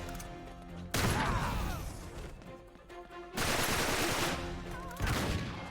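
Uncharted 3 gunfire slams against riot shields in three loud bursts, each a sharp impact followed by a ringing, fading clatter.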